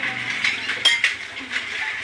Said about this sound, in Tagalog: Ayan po si Bengay, naghuhugas ng pinggan.